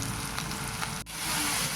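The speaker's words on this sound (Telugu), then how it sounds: "onions fry చేసేసుకుందామండి" Onions fry in a pan for paneer curry, a dense, even hiss of sizzling heard close and loud for a short stretch, broken by one brief dropout, with no voice.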